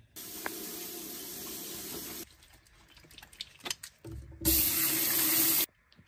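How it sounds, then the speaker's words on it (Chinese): A tap running for hands being washed: a loud steady splash of water into a sink, then a pause with quiet rubbing and handling, then a second shorter burst from the tap that cuts off sharply. "我也得赶紧洗一个手。"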